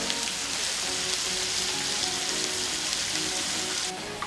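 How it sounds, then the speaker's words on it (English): Chopped onions and lemongrass sauté in a pan, giving a steady, close, dense sizzle that hisses evenly throughout with no talking. "adding lemongrass, 4 onions which I chopped before, and saute it to be brown"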